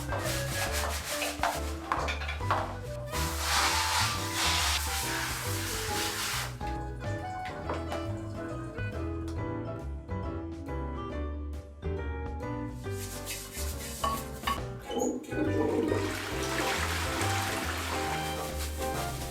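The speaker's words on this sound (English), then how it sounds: "I'm using a plastic bag to scrub the toilet bowl" A plastic bag scrubs a toilet bowl with a vinegar, water and dish soap solution, making continuous rubbing and swishing strokes in bursts, with water trickling, close and fairly loud.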